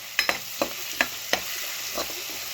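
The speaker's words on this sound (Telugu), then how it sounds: "ఎక్కువ ఉల్లిపాయలు వేసుకోవాలి, అలాగే కరివేపాకు కూడా వేసేసుకోవాలి. వేసేసుకుని ఇలా కలిపేసుకుంటాను." Onions and curry leaves are stirred and fried in a pan over a constant sizzle. Several distinct scraping knocks from the spoon against the pan come at irregular intervals.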